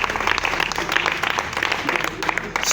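A church congregation applauding to acclaim the Lord, dense sustained clapping from a crowd throughout, with a voice speaking over it.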